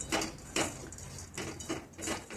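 A spoon scrapes and clatters in a kadhai as roasted moong dal vadis are stirred into masala, several distinct scraping strokes at an uneven rhythm, close and moderately loud, with no talking.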